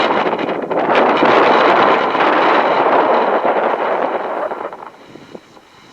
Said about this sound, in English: Wind is sure kicking up